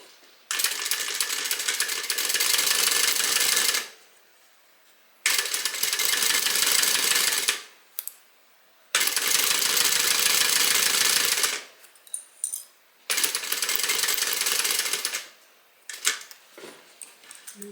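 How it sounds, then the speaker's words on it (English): Sewing machine basting a seam with a 1/8 inch allowance, four loud, fast-stitching bursts of several seconds each, separated by short pauses and a few brief mechanical clicks. "I'm just going to baste using an 1/8 of an inch seam allowance."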